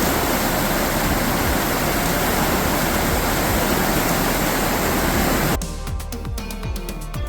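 A noisy stream rushes in a steady, loud, broadband wash near a geocache site, then cuts abruptly to a quieter scene with soft ticking sounds.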